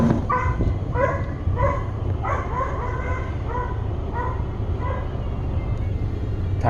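A dog barks in a short run of yips against a steady engine drone, recorded outdoors near a Jeep Liberty with a misfire.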